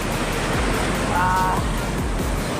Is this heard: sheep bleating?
no